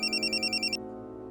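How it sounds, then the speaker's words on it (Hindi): A phone ringtone chirps in a rapid, evenly pulsed electronic pattern for under a second, then cuts off abruptly, leaving a low indoor hum. "इसका फोन आ गया।"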